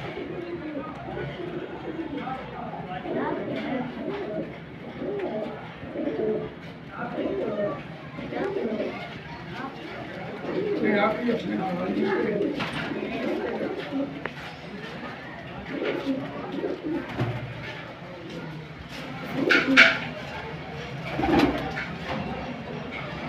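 Pigeons in Kanpur coo in soft, repeated throaty phrases close by, with some low chatter and voices mixed in under the birds.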